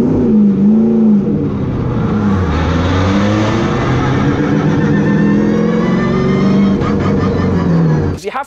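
A car engine revs loudly and steadily, its pitch sagging and recovering as a clutch takes up drive, with a voice talking over it throughout before the sound cuts off abruptly near the end.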